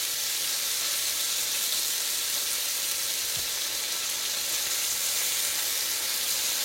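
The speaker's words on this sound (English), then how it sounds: "I want a good little brown sear on these." Chicken sears in a pan with a steady, dense sizzle and hiss of frying fat that continues unbroken at close range, with no talking.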